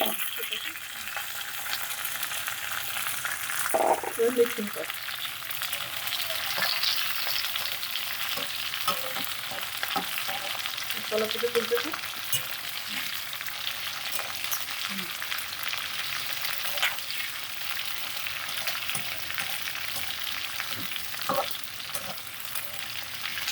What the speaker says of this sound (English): So now we have to mix it properly now and saute.